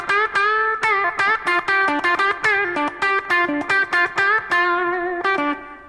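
An electric guitar with light distortion plays blues licks, a quick series of picked notes and short phrases with slight bends, close and clear with no talking, ending on a sustained note that fades.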